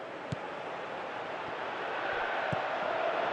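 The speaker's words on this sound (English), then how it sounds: "you can feel and hear how the crowd are reacting to all of this" Stadium crowd in Pro Evolution Soccer 2018 keeps up a steady, distant roar and murmur through a France match, with a couple of brief sharper shouts rising above the wash of noise.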